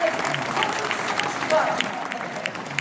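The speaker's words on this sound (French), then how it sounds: "Ben ouais, on applaudit." An audience at a political meeting on equality applauds, scattered moderate clapping running steadily through while a voice talks over it in the room.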